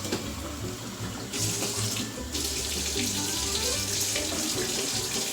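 Hot water running from a kitchen tap into a cup for bread dough, a steady close splashing stream that shifts in tone partway through as the flow changes.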